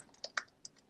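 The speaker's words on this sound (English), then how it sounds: "I'm typing into the chat the website" Keys tapped on a computer keyboard during an online committee meeting, a sparse run of quiet, close clicks with gaps between presses and no talk.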